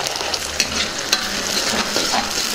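Ginger garlic paste and tomato puree are stirred in a hot pan, producing close, continuous sizzling with light scraping strokes and occasional sharper taps of the spoon.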